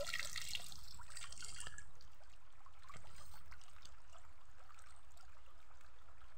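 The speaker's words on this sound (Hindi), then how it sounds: "देखिए पानी अंदर से निकल रहा है।" Water trickling and dribbling out of the zipper of a leaky waterproof bag, a faint continuous splashy trickle, quiet and close, with no voices.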